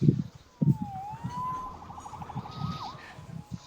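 A police siren in the video game Marvel's Spider-Man Remastered wails and warbles at moderate distance, sweeping up and down over low rumbling thuds and background noise.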